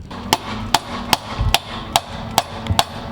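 Sharp metallic hammer strikes knocking out the shift linkage pin on an EF Civic sedan during a B18B swap, six evenly spaced, loud, close blows about every half second.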